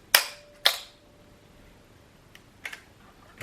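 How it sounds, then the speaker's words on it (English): Zenit 19 film camera shutter firing at different speeds: two sharp, loud clicks about half a second apart, then a fainter tick and a soft double click a couple of seconds later, in a quiet room. "Now let's see if the shutter speeds are right."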